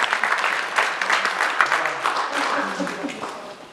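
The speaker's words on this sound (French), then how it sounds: "On les applaudit quand même." A conference audience claps together in a dense, sustained round of applause at moderate distance, with voices mixed in beneath the clapping.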